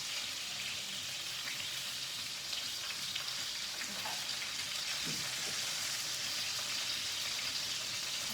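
Chicken in a mushroom sauce simmers in a pan on lowered heat, giving a steady, even sizzle and bubbling hiss that runs unbroken throughout with no voices over it.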